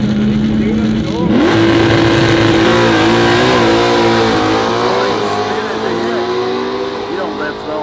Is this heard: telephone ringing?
no